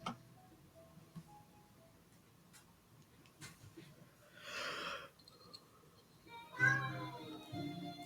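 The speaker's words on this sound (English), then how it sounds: "Meow, says Mog." A cat's meows in a visual novel game, a few brief calls spaced across a quiet stretch, with a louder burst near the end over faint background ticking.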